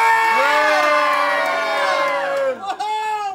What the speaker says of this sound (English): Everybody better start screaming.